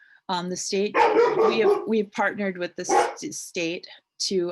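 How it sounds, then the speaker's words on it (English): An indoor dog barks and yips in short bursts, mixed in with and partly masked by a person speaking close to the microphone. "that's my dog"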